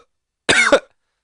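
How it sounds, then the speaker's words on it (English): One sharp double cough at close range, loud and brief, with silence on either side. "Oh man, I'm coughing like crazy."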